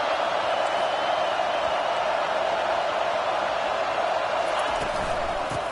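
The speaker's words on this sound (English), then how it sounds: "This crowd bringing the energy and noise early." A college football stadium crowd at an Auburn game sends up a continuous roar of cheering and noise, a broad, steady wash of sound with no clear break.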